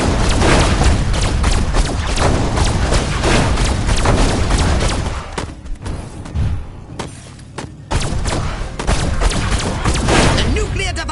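Game explosions from the destruction of a nuclear device: a long, dense barrage of loud booms and crackling blasts, thinning briefly in the middle before resuming at full intensity.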